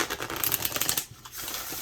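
A well-worn, bowed deck of cards is shuffled in a rapid riffling burst that briefly pauses, then resumes, close up.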